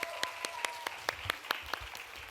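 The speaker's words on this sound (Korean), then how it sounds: "우리 다시 한번 임예권 건강하고 행복하게 살라고 박수 한번 해드리겠습니다." Sparse rhythmic clapping from a church congregation during Sunday worship, a few faint, evenly spaced claps about every quarter second, quiet and close-miked over a low background hum.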